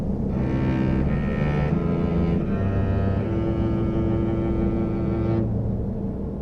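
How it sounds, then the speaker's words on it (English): Cello playing a slow sequence of sustained bowed notes, each held and shifting in pitch, loud and close throughout with no voices. "the yield curve should sound something like this, as played on the cello by my editor, Amanda Peacher."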